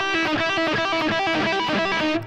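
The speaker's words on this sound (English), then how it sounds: "it's based around one of the first fast licks you'll probably learn to play an electric guitar" A fast pentatonic lick played on a distorted electric guitar, a rapid run of bright, sustained notes that rings loud and close for about two seconds with no talking.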